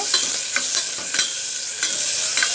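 Onion, green chili and curry leaves fry in hot oil with a loud, close, continuous sizzle, broken by a few quick stirring scrapes.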